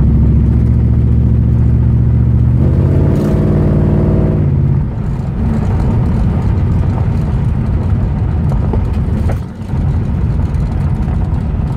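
Engine of a 1967 Ford Mustang without power steering running loud and close while driving, a steady low rumble that swells briefly as it revs, then settles back into a constant drone.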